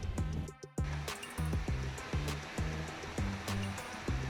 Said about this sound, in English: So I'm first drilling this out to 8mm, and then I'll take it out to 10, which is what I need for the coach bolt